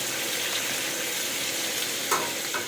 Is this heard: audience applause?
no